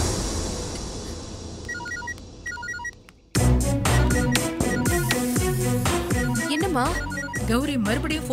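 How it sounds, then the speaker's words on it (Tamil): A phone rings faintly with short repeated electronic beeps in a Tamil TV serial scene, before loud dramatic background music swells in and drowns it out. "கௌரி மறுபடியும் ஃபோன் பண்றாடி"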